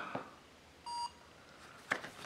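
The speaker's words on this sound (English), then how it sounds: "You hear the little beep, scans it, game found" A single short electronic beep from a phone barcode scanner app sounds clearly as it scans a game case, with faint rustling and soft handling noise before and after it.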